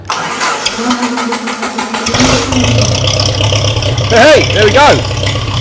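A Ferguson TEA35 tractor engine on a freshly fitted carburettor cranks and fires at about two seconds, then settles into a loud, steady running rumble with a couple of rising revs near the end, with someone speaking briefly over it.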